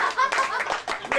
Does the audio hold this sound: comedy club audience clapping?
yes